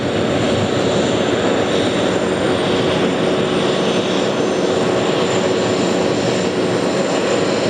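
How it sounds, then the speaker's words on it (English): Airbus A330neo jet engines at JFK airport, a loud, steady, close roar that fills the whole stretch without pause or voices. "It's a fantastic looking 330. Neo by the looks of it"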